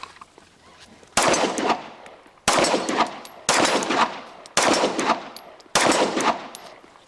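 Five loud, close gunshots from a Gen6 Glock 17 pistol, fired at a steady pace about a second apart, each a sharp crack with a short ringing decay and no talking.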